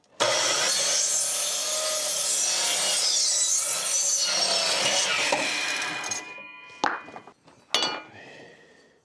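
A hand saw rasps through a wooden roof board for a shed expansion, cutting an angled bevel in fast, steady strokes for about six seconds before the sawing stops and a couple of sharp knocks follow.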